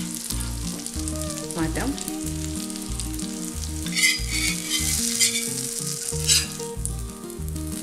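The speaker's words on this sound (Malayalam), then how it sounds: "മീൻ ഫ്രൈ ചെയ്യുമ്പോഴത്തേക്ക് മീഡിയം ഹീറ്റിൽ ഇട്ടിട്ട് വേണം കേട്ടോ ഫ്രൈ ചെയ്യാനായിട്ട്" Masala-coated sole fish sizzles steadily in a hot pan over medium heat, a continuous crackling fry with occasional stirring, while background music plays and a voice briefly speaks.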